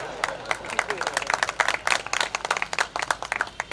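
A half-hearted round of clapping from an audience at a Jain spiritual discourse: thin, scattered, uneven claps with gaps between them, close and moderate, with some voices mixed in.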